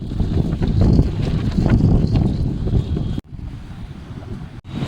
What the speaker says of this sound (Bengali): লিটারেলি যেভাবে হাওয়া দিচ্ছে